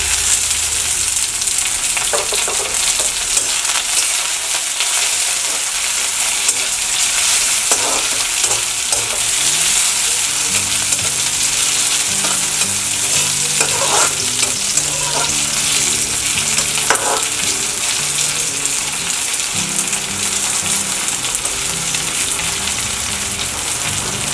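Masala bhaji with chopped tomatoes fries in a pan for pao chop, a loud, continuous sizzle broken by repeated scraping and stirring strokes.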